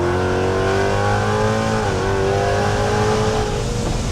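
A Ford Mustang muscle car engine revs loud and raspy from inside the cabin, a heavy droning rumble whose pitch dips briefly mid-way before climbing again, with no talking over it.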